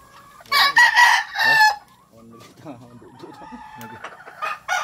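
Chickens on a farm cluck and a rooster crows loudly nearby, a long strained call followed by softer clucking and scattered bird chatter; someone talks faintly in the background.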